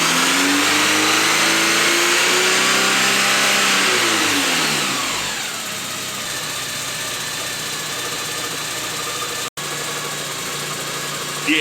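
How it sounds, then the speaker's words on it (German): A Porsche 944 Turbo engine rises in pitch as the throttle opens, holding a loud, steady high-revving roar before settling back to a constant hum, heard up close in a workshop. "Wenn ich jetzt an der Drosselklappe aufmache und der Motor mehr Luft zieht"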